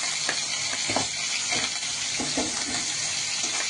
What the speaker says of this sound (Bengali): মাথাগুলো আগে ভেজে নিই, তারপরে মাছটা ভাজবো